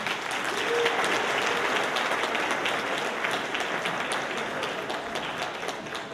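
A gala audience gives a keynote speaker sustained, dense applause, a steady wash of many hands clapping at an even level throughout.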